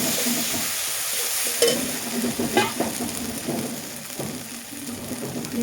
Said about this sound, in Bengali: দিয়ে দিচ্ছি সর্ষে বাটা, এটা আমি একটু ভালোভাবে ভেজে নিই